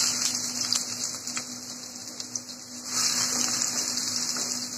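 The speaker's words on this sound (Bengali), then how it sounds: "গরম তেলে দিয়ে দিচ্ছি পেঁয়াজ কুচি" Chopped onion frying in hot oil for a pineapple hilsa fish dish, a steady bright sizzle and crackle that runs continuously and close by, with no talking.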